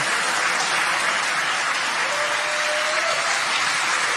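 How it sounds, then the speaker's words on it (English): Sustained applause at launch control after a SpaceX Falcon 9 booster landing during NASA's Crew-4 launch, a dense steady wash of many hands clapping throughout, with a faint tone briefly sounding under it. "You can hear the applause behind us."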